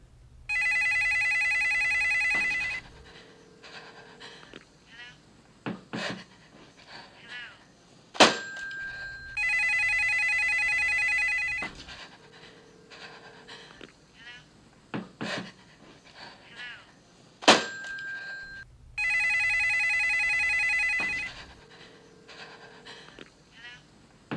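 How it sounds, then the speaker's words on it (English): A house phone rings in repeated bursts, three rings spaced several seconds apart, with quiet room noise and small knocks and clicks between them. "It was all I could do to ignore the incessant calls to the house phone."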